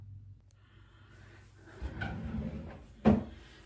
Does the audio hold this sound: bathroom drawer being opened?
yes